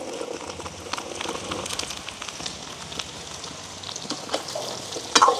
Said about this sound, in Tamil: உள்ளி வந்து இந்த நல்லெண்ணெயில் நல்லா பொரிஞ்சு வரணும் எங்களுக்கு